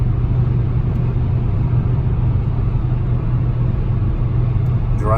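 A 1997 Volvo 850 cruises at 75 mph on cruise control, filling the cabin with an even, loud low road and engine rumble; a voice starts at the very end.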